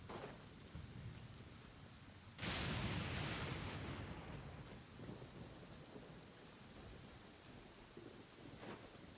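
Heavy rain in the video game Genshin Impact pours steadily while a loud thunderclap bursts in and rumbles away over several seconds, with a fainter crack near the end.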